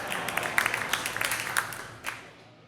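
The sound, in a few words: comedy club audience applauding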